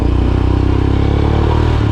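A modified Royal Enfield Himalayan dirt bike with a raised suspension and engine modifications runs loud and close, its engine drone steady and rumbling for the whole stretch.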